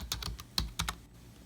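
Computer keyboard being typed on in short, uneven bursts of clicky keystrokes, close and fairly quiet, with no voices.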